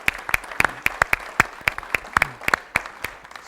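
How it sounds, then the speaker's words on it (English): A small group at a community forum claps at a brisk pace, the individual claps sharp and distinct, close and fairly loud, with no talking. "let's give everyone a big round of applause."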